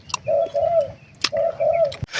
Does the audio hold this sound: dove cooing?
yes